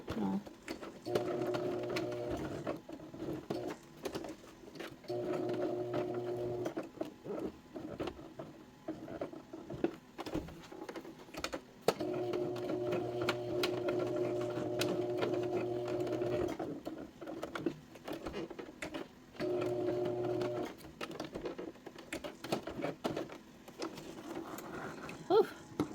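A sewing machine stitching small pieces of a clutch bag runs in several bursts of rapid, even mechanical chatter, close by, with pauses, handling noises and some talk between runs.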